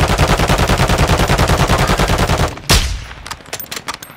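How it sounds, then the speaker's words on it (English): Gunfire in a multiplayer shooter: a steady, rapid, loud automatic burst of evenly spaced shots, then one sharp heavy report followed by a few scattered fainter cracks as the echoes die away. "We're getting sniped at now."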